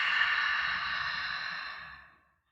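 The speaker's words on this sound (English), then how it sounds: "Open your mouth, blow it out." A forceful open-mouthed exhale during high-intensity yoga breathing: one long, close breath blown out steadily for about two seconds, then fading to silence, with no talk over it.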